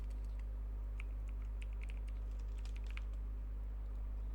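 Someone types a password on a computer keyboard, a short run of faint, sparse key clicks over a strong steady electrical hum.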